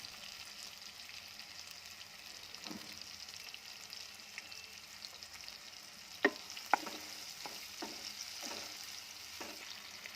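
Ginger garlic paste fries in a pan for pakoda curry, a faint, steady sizzle under a few sharp clicks of a spoon against the pan, quiet and close with no talk.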